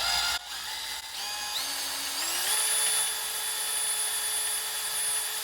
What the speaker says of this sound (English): After about 10 to 15 minutes of drilling